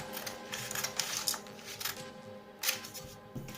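Scissors cut strips from a sheet of paper: repeated crisp snips with short rustles between them, close by, a few quick cuts in a steady rhythm.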